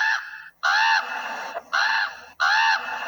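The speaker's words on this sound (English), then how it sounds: "a crow can be heard" A crow caws three times in an establishing shot of the power plant in The Simpsons, each harsh call long and loud, close up and separated by short gaps.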